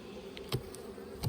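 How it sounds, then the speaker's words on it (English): Honeybees buzz around an open, strong farm hive, a steady soft insect drone with a couple of individual bees passing close by, no voices. "look at all these bees"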